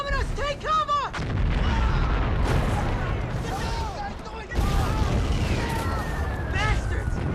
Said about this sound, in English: Our guys are bombing us! Take cover!